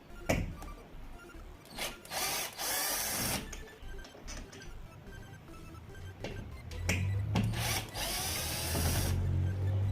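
Screws being driven out of a sliding door lock with a power drill or screwdriver, several short whirring bursts close by with tool handling and scraping in between, no talk.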